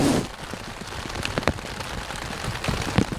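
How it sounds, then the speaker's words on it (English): Heavy rain drums on a tent or tarp in the wilderness at early morning, a dense close patter with sharper individual drop hits scattered throughout, with no talking. "Probably isn't raining as hard as it sounds"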